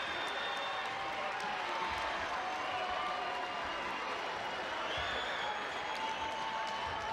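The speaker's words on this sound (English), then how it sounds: "Crowd getting into it, getting them hyped." Arena crowd at a 2018 Oklahoma 5A boys high school basketball quarterfinal, Carl Albert against Booker T. Washington, roaring and applauding in a steady, dense wash of cheers and claps that carries through the whole stretch, with voices mixed in.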